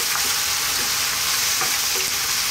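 Garlic ginger paste and whole fresh chilies fry in a hot pan, giving a steady loud sizzle with faint scraping of stirring throughout, no voices.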